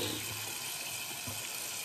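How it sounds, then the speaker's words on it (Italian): Hot water running steadily from a tap into a sink before a shave, a continuous broad hiss and splash close by with no talk. "iniziamo a far scorrere l'acqua calda"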